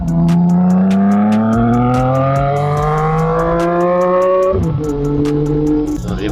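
CFMOTO 675SR-R motorcycle accelerating hard on a commute, engine pitch climbing steadily through the gears with brief dips at shifts, loud and close throughout.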